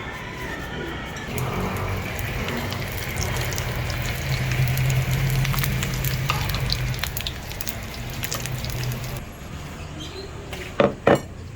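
Fish frying in a pan for a Filipino mung bean dish, a steady hiss and crackle of oil running throughout with a few soft clinks of utensils near the end.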